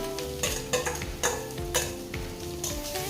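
Mung dal sizzling in a pan while a utensil scrapes and stirs it in several distinct strokes, close and fairly quiet.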